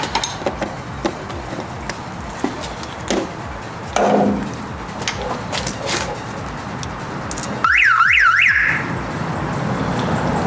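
A Toyota Celica GT-S car alarm goes off loudly near the end, a rising and falling siren wail after some earlier knocks and clatter, close by and alone.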